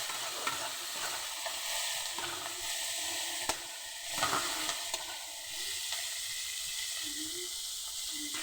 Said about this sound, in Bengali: পেঁয়াজগুলো একটু ভালোভাবে ভেজে নেব।